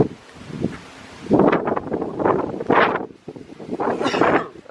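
Gusty wind blowing outdoors, buffeting the microphone in uneven surges that rise and fall over several seconds, with rustling and no talk.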